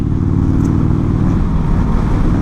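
A 1984 Harley-Davidson FLT Tour Glide with a primary leak, ridden in New York City, gives a steady low engine rumble mixed with road and wind noise throughout.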